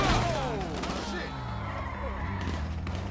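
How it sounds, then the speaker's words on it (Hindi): Gunfire erupts in GTA V, a dense fusillade of shots with thuds and crashes mixed into busy game noise, loud and close throughout the short stretch. "गोली पड़ना शुरू हो गई है"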